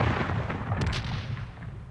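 Civil War-era cannon artillery firing, a deep, booming thud with a rolling low rumble that carries on briefly after the blast, with no voices.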